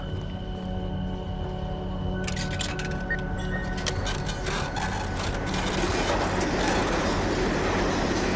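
A train passes in a video game, a loud steady rumble with rhythmic clacking and mechanical rattles building midway, close and continuous.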